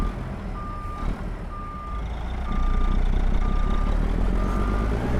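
A truck in American Truck Simulator backs up, its reversing alarm giving five evenly spaced single-pitch beeps over the diesel engine's low rumble, which swells louder midway.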